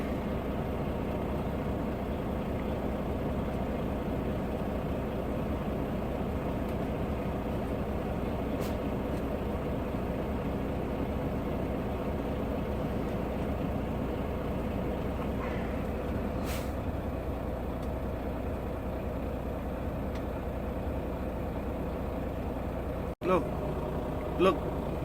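A freshly started truck sits idling in snow, giving a continuous low engine rumble that runs steadily throughout, with a couple of brief clicks near the end.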